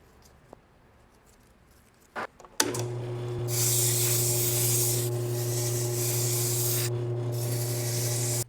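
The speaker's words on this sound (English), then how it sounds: "peel all the leather off, sand down the wood" Power sander working down a wooden shifter knob from a 1976 Triumph Spitfire, its leather cover stripped off; a steady, loud whirring drone with a bright hiss starts after a few quiet seconds and holds to the end.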